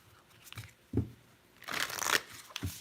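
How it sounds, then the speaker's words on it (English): Moonology Oracle cards are shuffled close by, with a few soft taps and thumps followed by a brief flurry of riffling card noise, then a final light tap. "I am going to pull some Moonology Oracle cards."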